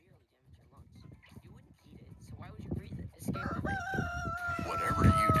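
A rooster crows on a dairy farm with Jersey cows, rising loud near the end amid people talking and other farmyard noise.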